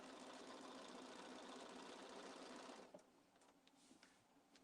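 A sewing machine runs steadily while stitching around a handbag pocket, a fast, even mechanical whir lasting about three seconds before it stops, followed by faint clicks and handling sounds, quiet overall.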